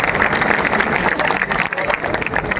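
Students at a rally in Mukherjee Nagar clapping together as a crowd, dense continuous applause with crowd noise and some voices mixed in.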